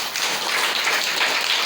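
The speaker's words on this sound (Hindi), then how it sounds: "बिटिया के लिए जोरदार ताली बजाइएगा" A crowd claps loudly and continuously for a girl at a women's hygiene awareness event, a dense patter of many hands with no talking over it.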